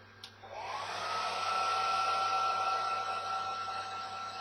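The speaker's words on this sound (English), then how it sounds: "We're going to hit it with the hair dryer on the warm setting again," A hair dryer on its warm setting blows onto a decal being applied over compound curves, a steady loud whir that starts after a brief click and runs on continuously.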